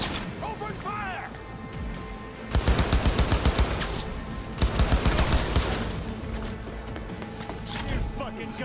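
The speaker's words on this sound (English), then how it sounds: "open fire!" Cyberpunk 2077 gunfire erupts in two dense rapid volleys, one at about 2.5–4 s and another at 4.5–6 s, loud and close, with voices heard in the fight.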